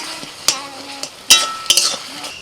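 Four green chillies drop into tomato chutney sizzling in a pan, with a soft frying hiss broken by a few bright clinks of a utensil against the pan.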